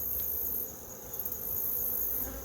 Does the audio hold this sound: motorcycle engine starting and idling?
no